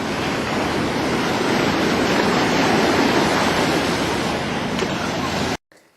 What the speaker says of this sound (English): Smacked by the ocean.